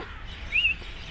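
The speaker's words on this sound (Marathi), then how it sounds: "तुम्हाला पक्ष्यांचा आवाज ऐकू पक्ष्यांचा बघा" A single bird chirps once, brief and clear, over a low steady outdoor hum at dusk.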